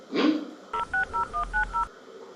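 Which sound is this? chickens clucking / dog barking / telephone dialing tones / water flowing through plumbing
telephone dialing tones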